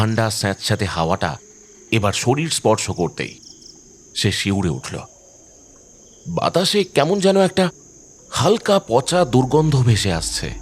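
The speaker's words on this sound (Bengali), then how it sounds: "ঝিঝি পোকার ডাকটাও কেমন যেন খাপ ছাড়া" Crickets chirp at night in a steady, high continuous trill that runs beneath almost constant spoken narration, faint but persistent through the pauses.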